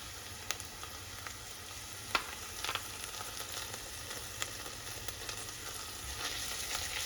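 Garlic and thawed green peppers sauté in a pan, a quiet, even sizzle with occasional soft clicks and one sharper knock of a utensil, with no talk.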